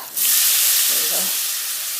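Chopped fake meat sausage hits a heated pan on a home stove and sizzles loudly, a steady frying hiss that starts abruptly and holds for about two seconds.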